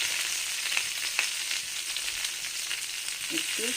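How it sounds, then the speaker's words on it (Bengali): Pointed gourd (potol) fries in a pan with a steady, close sizzle and a few faint clicks and pops scattered through, with no talking. "পটলগুলোকে একটু ভেজে নেব"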